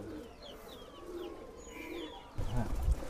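Racing pigeons kept for sale, cooing close by in soft repeated throaty rolls, with a louder rustle and low thump near the end.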